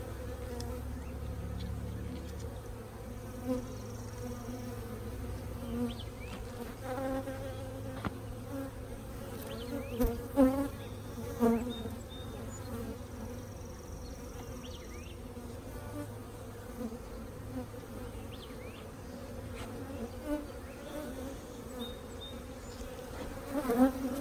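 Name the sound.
honeybees buzzing at a nucleus hive install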